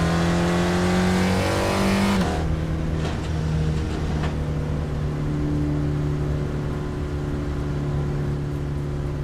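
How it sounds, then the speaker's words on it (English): Race car engine in the iRacing sim racing game, a loud steady drone that drops pitch sharply near two seconds, as after a shift or lift, then holds a constant hum to the end with no talk. "Oh, engine's a little loud,"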